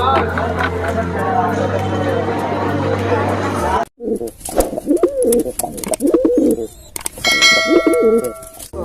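Pigeons coo close by in soft repeated calls at the Gariahat pigeon market in Kolkata, mixed with people talking and occasional metallic clanks, after a stretch of dense background noise.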